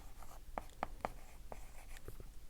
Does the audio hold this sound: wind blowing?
no